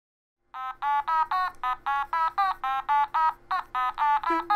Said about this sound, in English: Oh, my phone's going.